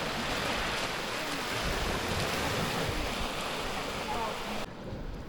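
Sea waves wash onto the shore at Dąbki on the Baltic coast, a loud, continuous rushing surf with wind buffeting the microphone.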